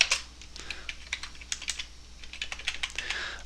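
Someone types an equation on a computer keyboard while programming, producing a quiet, steady patter of close key clicks with small pauses.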